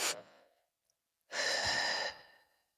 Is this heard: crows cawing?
no